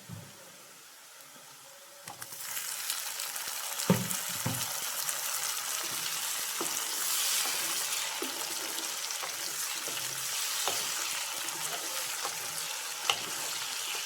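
Onions and tomato frying in a pan for chicken roast, a quiet start giving way to a loud, steady sizzle with occasional stirring knocks, up close and without talk.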